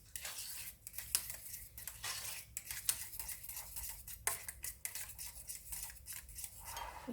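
A spoon stirs a milk sauce for fish pie in a pan, giving steady soft scraping and occasional light clinks against the pot, close but quiet.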